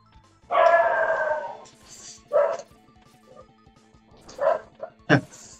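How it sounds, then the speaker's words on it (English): A pet dog barks in the background of a room in a few separate bursts: a long run of barks, then short single yips and barks, moderately loud behind quiet play sounds. "Our dog's barking in the background while I'm fighting this dog."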